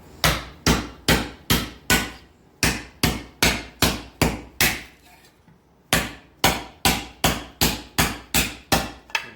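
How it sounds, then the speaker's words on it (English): Sheet metal is hammered to shrink it while shaping a 1913 Duesenberg cyclekart body, with loud, close, evenly paced blows in two runs broken by a short pause. "we come along and hammer these down to try to capture those shrinks"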